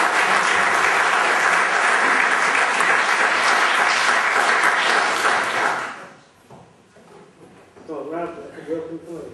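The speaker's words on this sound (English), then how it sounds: "Round of applause for Will." A theatre audience at a stage mentalism show bursts into loud, dense applause that holds steady for about six seconds, then cuts off sharply, after which someone speaks over a quiet room.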